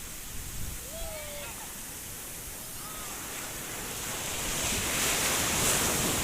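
Sea waves breaking along the Visakhapatnam coast, a steady broadband wash of surf that swells louder toward the end, with wind noise on the microphone.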